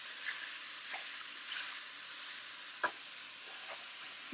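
Hamburger meat browning in a pot for soup gives a quiet, steady sizzle, with a few scraping stir strokes and one sharper clink partway through.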